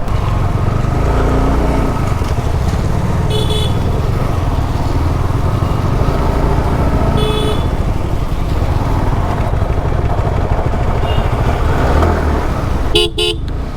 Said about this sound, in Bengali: অনেক জোর বৃষ্টি চলে এসেছে।